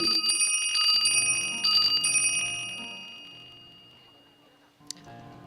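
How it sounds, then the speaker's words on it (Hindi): A temple bell rings during a live Shrimad Bhagwat Katha: bright metallic peals ring out for a couple of seconds, then fade into a long decaying hum, followed by a single sharp strike near the end. "मंदिर की घंटी बजी"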